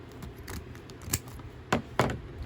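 Scissors snip through fabric for a small doll sweater, several sharp cuts building to two louder closing snips near the end, close and alone with faint room noise.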